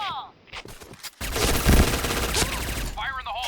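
A quick burst of AS Val rifle fire in the shooter game Point Blank rattles out loud and close, a dense run of shots lasting a second or so amid game sounds.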